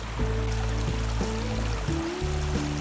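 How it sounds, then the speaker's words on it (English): A mountain spring in the Pecos Wilderness runs beside a hiking trail, a steady close wash of flowing water under a low, wavering droning hum, with no talking. "here's an awesome spring right next to the trail"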